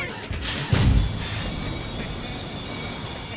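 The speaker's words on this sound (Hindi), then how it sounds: "ट्रेन चल पड़ी।" A train squeals and rattles as it starts to pull away, with a heavy metallic thump near the start, followed by a steady rolling rumble and high wheel squeal.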